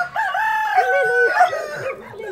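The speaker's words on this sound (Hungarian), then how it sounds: "Undorító kakas betámad minket." A rooster crows close by on a farm, one long harmonic cock-a-doodle-doo that dominates the scene, with some faint rustling beneath.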